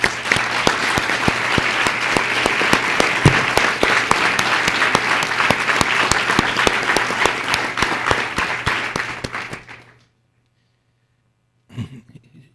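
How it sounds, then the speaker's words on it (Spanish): Dense, steady applause from a large lecture audience for about ten seconds, then it stops abruptly, leaving near silence with a brief sound at the end. "Un aplauso, por favor."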